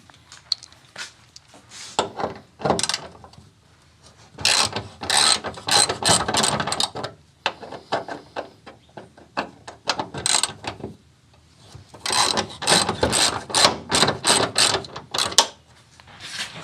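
A socket wrench ratchets hood bolts loose on a 1979 Chevy LUV, several bursts of rapid clicking separated by short pauses, close and fairly quiet, with no talking.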